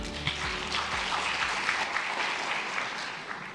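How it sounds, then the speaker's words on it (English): A round of applause from the audience at a cultural innovation forum for a speaker from Vietnam's art world, a moderate, steady patter of clapping from a seated crowd that tapers off. "please give him another round of applause"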